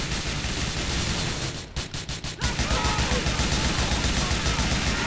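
A dense burst of many gunshots in a video game, loud sustained rapid fire that breaks briefly into a few separate sharp cracks before resuming as a continuous barrage.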